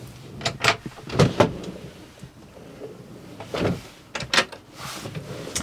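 Drawers opening and closing inside a Concorde Cruiser A894 motorhome, a series of short wooden knocks and sliding thuds in irregular bursts, close by, with quiet gaps between them.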